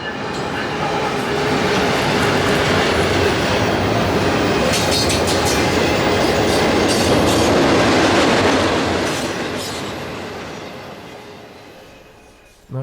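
Brand-new Wabtec GE ET44 locomotives lead an eastbound hotshot intermodal freight train past at close range, a loud continuous roar of wheels and rhythmic clickety-clack from rolling cars that swells, holds, then eases off near the end.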